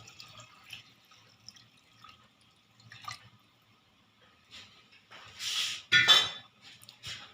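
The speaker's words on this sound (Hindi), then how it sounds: "और ये 1 लीटर पानी है ये इसमें जाएगा।" Faint drips and clinks give way to a brief burst of one litre of water splashing into a cooking pot, close by and otherwise quiet.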